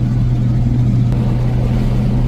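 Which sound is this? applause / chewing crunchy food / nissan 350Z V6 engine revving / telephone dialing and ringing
nissan 350Z V6 engine revving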